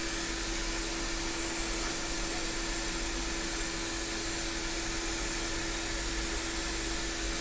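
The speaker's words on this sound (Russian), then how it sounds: "слышен только выдув именно на сопле самой ручки" SUGON 8650 hot air soldering station, 1300 W with up to 200 L/min airflow, blowing a steady airstream from the handpiece nozzle: an even, continuous whoosh with a faint hum, close and unchanging, no talking.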